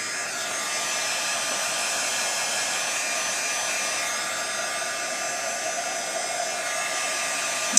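A hair dryer blows steadily to dry paint on a plastic gift box, a constant close whirring hiss that holds even for the whole stretch with no talking.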